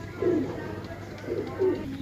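Pigeons coo in two soft, low bursts around a second apart, close by, with a faint background hum and no talking over them.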